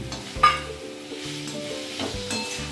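Cut potatoes stirred into a hot pan with spices while cooking a bottle gourd kofta curry, giving a sizzling fry with scraping stir strokes and utensil knocks, loud and close, no voices.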